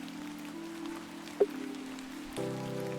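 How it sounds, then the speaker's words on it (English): Soft, even rain hiss from the adventure game The Excavation of Hob's Barrow, set beneath sustained tonal game music, with a brief sharp knock midway and the music swelling near the end. "It's raining now, guys."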